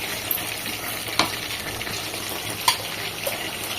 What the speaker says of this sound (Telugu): ఇప్పుడు ఇది మంచిగా ఫ్రై కావాలి కొంచెంసేపు